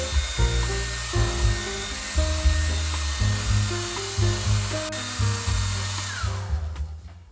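A hair dryer runs steadily, drying a watercolor cityscape painting, its close, loud motor whir wavering slightly as it moves across the paper before switching off near the end.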